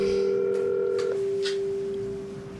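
A telephone line tone on a call, a steady loud electronic hum with a higher tone that cuts off about a second in, followed by faint clicks on the line.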